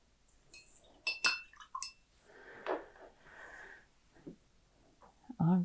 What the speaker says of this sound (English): rinse my brush off